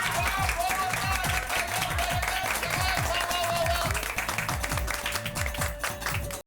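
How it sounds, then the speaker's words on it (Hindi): Loud, enthusiastic applause from a group gathered at a family celebration for Chacha ji, rhythmic clapping sustained throughout with a steady tone ringing underneath. "भाई इस बात पर चाचा जी के लिए जोरदार तालियां हो जाए।"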